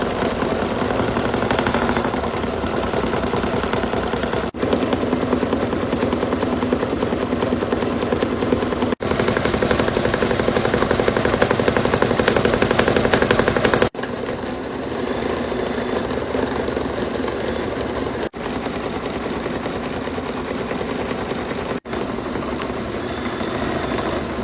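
An embroidery machine stitches decorative satin stitches and appliqué on cork, a steady loud mechanical whirring that runs in long stretches with brief pauses between thread-colour sections.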